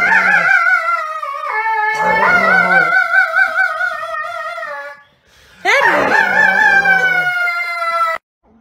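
A dog lets out two long, loud, wavering howls, rising and sliding in pitch, separated by a short pause.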